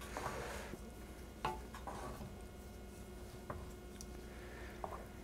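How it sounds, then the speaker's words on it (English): Seasoning is gently stirred into a pot of Tuscan white bean and barley soup, making faint soft swishing with a few light clinks of the utensil on the pot, quiet and close, with no one talking. "I'll use this to gently stir that in."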